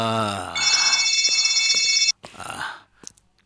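An electronic telephone ring sounds as a steady, loud, multi-tone electronic trill for about two seconds, then cuts off and gives way to scattered clicks and brief rustling.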